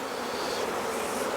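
A steady, dense buzz of many honeybees fills the air at an open nuc hive during a queen-cell inspection, continuous and close with no voices.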